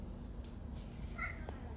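An 11-year-old male cat playing beside a pet monkey gives a short meow, close by, over a steady low background hum.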